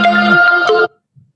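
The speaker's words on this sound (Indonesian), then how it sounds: "ada telepon bang. Aduh, ampun dah. Angkat dulu." A telephone rings with a bright, tonal electronic ringtone, loud and close, playing alone for under a second before cutting off into near silence.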